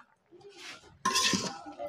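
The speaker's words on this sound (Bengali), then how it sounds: "এবার আমি নাড়া দিয়ে নিব" A utensil stirs Malabar spinach and fish in a pan, giving a soft scrape followed by a louder clattering scrape and clink, brief and close.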